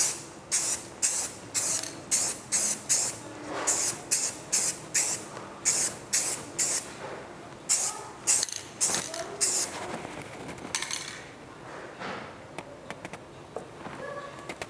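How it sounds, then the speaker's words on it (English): Close bursts of aerosol primer spraying onto sanded wooden trim, a rapid series of short hissing pulses with brief gaps, thinning into lighter, scattered sprays near the end. "I'm going to get a can of primer and spray over that, the sanding"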